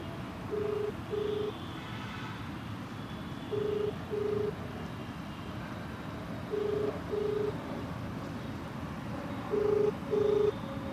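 A phone rings back repeatedly in paired electronic tones through a speakerphone, four double rings spaced evenly over a low background hum.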